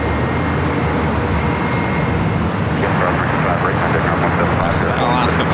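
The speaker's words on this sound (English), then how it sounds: "Alaska flight went around." An Alaska Airlines jet going around at LAX gives a loud, sustained engine roar that swells and rumbles steadily, with no talk over it.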